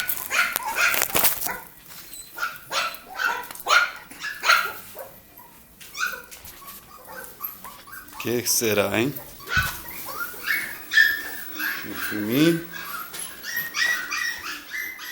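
Several dogs bark and whimper around a house, with sharp yips and barks clustered early and whines later, mixed with someone talking throughout.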